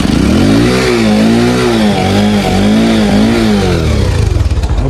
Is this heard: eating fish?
no